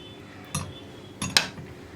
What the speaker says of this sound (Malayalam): വേറെ പാൻ വയ്ക്കാം.